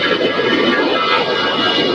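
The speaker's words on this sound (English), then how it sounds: "up next is the Japan Airlines 787-9 Dreamliner coming in from Tokyo, flight 6720" A Japan Airlines Boeing 787-9 Dreamliner arriving from Tokyo at LAX roars loud and steady, a broad continuous jet rush with no break and no voices.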